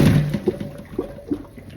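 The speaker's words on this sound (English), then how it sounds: "we're gonna drain the potatoes" Water from boiled, skin-on potatoes is poured off in a brief rushing splash at the start, then trails into scattered drips and light sloshes, close and fairly loud.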